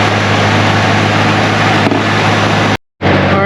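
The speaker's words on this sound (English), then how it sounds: "I turn the car on right now and turn the AC on and see where it sits at" A Chevrolet Corvette C5 idles steadily with its A/C running full blast, a loud, continuous engine drone up close with blower rush, briefly cut out near the end before resuming.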